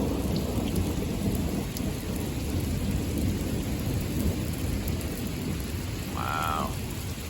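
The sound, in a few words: heavy rain during a thunderstorm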